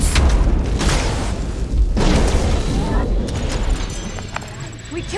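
Fireworks blasts during combat in Marvel's Guardians of the Galaxy game, with loud, deep booms and crackling bursts repeating close by over a dense, noisy battle mix.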